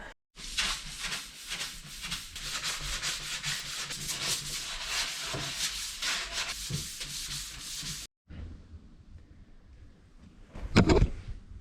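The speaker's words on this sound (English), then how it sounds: "I'm just going to use one of these blocks on top, and I'll give them both a bit of a scuff down." Steady rasping strokes of a sanding block with 320-grit paper rubbed back and forth across a sign surface, continuous for several seconds, then a pause and a brief louder scrape.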